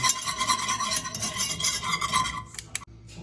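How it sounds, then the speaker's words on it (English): Rapid, continuous scraping and clinking of a whisk mixing hollandaise sauce in a bowl, loud and close, with no voices, easing off near the end. "then we just whisk"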